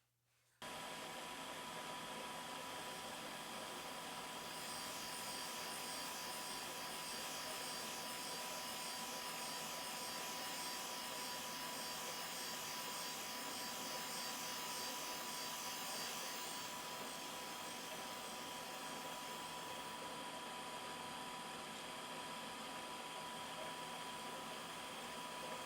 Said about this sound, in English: we're going to grind down the OD